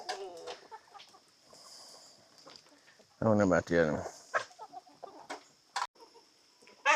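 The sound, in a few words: chickens clucking in the garden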